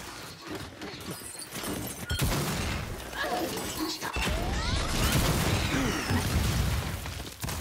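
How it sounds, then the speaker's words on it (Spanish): In a video game firefight, a flashbang grenade goes off amid loud crackling bursts, shattering noise and rapid gunfire. Dense, chaotic and close, with excited character voices calling out over it. "¡Granada de destellos en camino!"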